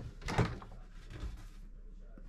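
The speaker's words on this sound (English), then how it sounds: "Storage cupboard in here." Storage cupboard door aboard a Beneteau GT45 yacht cabin opened or closed with a single soft thunk, close and fairly quiet in a still interior.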